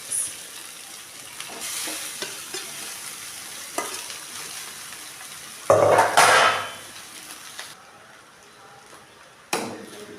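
Cooked rice goes into a hot pan for hotel-style chicken fried rice and is stir-fried, with a continuous sizzle, scraping spatula strokes and a louder clattering burst midway, then sharp pan knocks.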